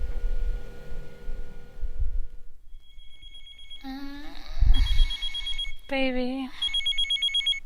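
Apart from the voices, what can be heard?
telephone ringing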